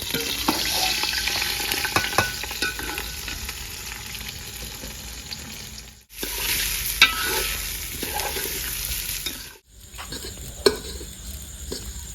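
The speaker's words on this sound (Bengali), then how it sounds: "এবার চালটা দিয়ে চালটাকে ভেজে নেবো" Raw rice fries in a pan for village-style basanti pulao, a dense crackling sizzle with close scraping stirs that runs steadily, broken by two brief silent cuts.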